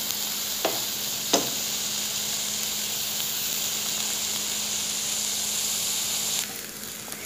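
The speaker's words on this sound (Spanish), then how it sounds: "cuando se están dorando de un lado las salchichas, los trozos, le vamos a dar vuelta para que doren de ambos lados" Sausage pieces brown in a hot pan with a soft, even sizzle that holds steady throughout, broken by a couple of light clicks early on before easing slightly near the end.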